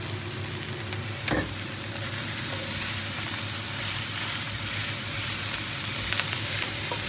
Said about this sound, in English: Now I want a quick stir fry, so I'm going to increase the stove.